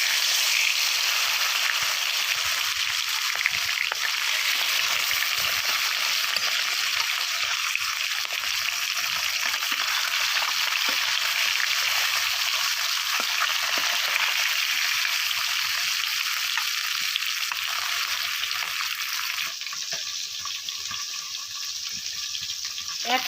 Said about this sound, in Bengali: তেলটা আমার গরম হয়ে গেছে, আমি এখন একটা একটা করে মাছগুলো দিয়ে দেবো।